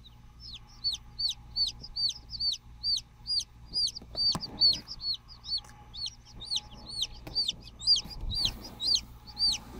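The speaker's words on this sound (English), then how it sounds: "This little guy's making quite a bit of racket." A newly hatched chicken chick peeps loudly and repeatedly in quick, regular bursts throughout, close to the microphone, with a faint low hum and a couple of soft knocks beneath.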